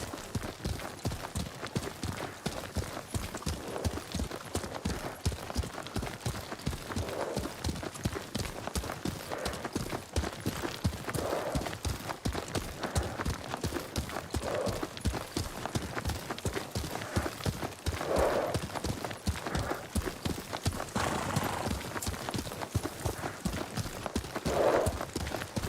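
Horse hooves gallop in the Ghost of Tsushima video game, a long steady run of rapid, evenly repeating clip-clop beats, close and continuous, with occasional faint snorts mixed in.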